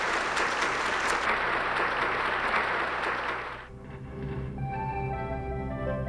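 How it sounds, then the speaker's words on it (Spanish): Congregation applause at a Catholic preaching service, a dense wash of clapping for about three and a half seconds that then cuts off, leaving quiet music behind. "Démosle un aplauso al Señor porque Él nos está animando a avanzar en este camino."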